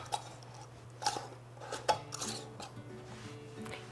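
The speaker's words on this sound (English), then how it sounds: "So I'm going to just use a rubberized tongs." Rubberized tongs handle hot glass canning jars during pepper processing, giving a few light clinks and knocks of glass against metal, with a low steady hum underneath. No one speaks.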